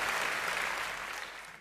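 A studio audience at a Vietnamese game show claps loudly and steadily, a dense continuous applause that fills the whole moment before ending abruptly.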